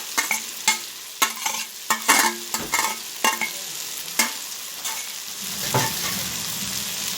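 Onions and fish belly pieces frying in a pan, a steady close sizzle punctuated by sharp clatters and scrapes of stirring at an irregular rhythm, with no talk.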